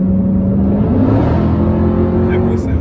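A Dodge Challenger SRT Hellcat Redeye Widebody rounding a curve with a loud, close, sustained engine roar rising in pitch as it accelerates, with a voice heard under it.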